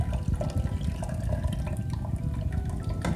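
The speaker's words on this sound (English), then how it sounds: "you want it to blend gradually, don't just pour it in, suddenly" Broth poured gradually into a pot of meatball soup, a continuous close liquid stream that splashes and gurgles steadily for the whole stretch.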